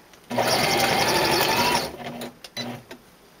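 A sewing machine stitches a fabric gift bag seam in a rapid, close, even whir for about a second and a half, followed by a few short stop-start bursts.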